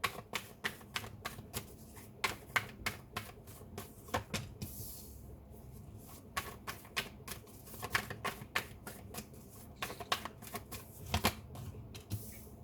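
Tarot cards are shuffled close by in a long run of quick, crisp riffling flicks with a steady rhythm, fairly quiet and with no one talking.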